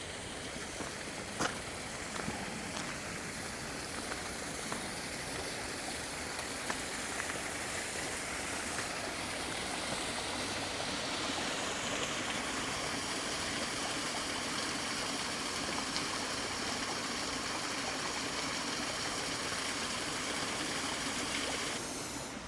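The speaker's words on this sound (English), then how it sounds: "I'm going to head over to this waterfall" Steady, full rush of a waterfall in the traditional Japanese garden of Sankeien, continuous broadband water noise heard up close with no talking.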